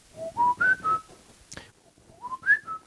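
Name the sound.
person whistling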